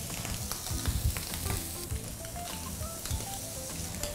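Scallops sear in a pan with olive oil and butter, a close, steady sizzle with crackling spits and occasional soft knocks, heard without any talking.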